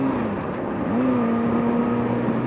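Road traffic hums steadily close by, a continuous car engine drone with a faint pitch shift as vehicles move, with no talking.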